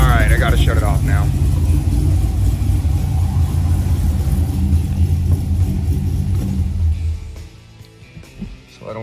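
Cammed 6.2-liter LT1 V8 in a 2017 Camaro SS 1LE, built past 600 hp, idling loud and close inside a shop with a deep, lumpy rumble that cuts off near the end as the engine shuts down; a voice briefly talks over it.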